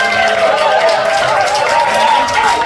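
Applause from the congregation at a church summer retreat's evening worship service, a steady wash of clapping hands filling the hall over broad crowd noise, with a murmur of voices underneath.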